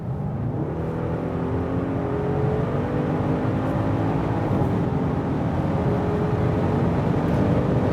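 An Audi RS6 Avant Performance's 605 hp V8 roars steadily under hard acceleration on the Autobahn, its pitch climbing smoothly, with constant road and wind noise and no talking.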